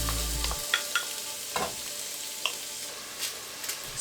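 Onions sautéing in avocado oil in a soup pot, a soft steady sizzle broken by a few light stirring scrapes and clicks, fairly quiet and close.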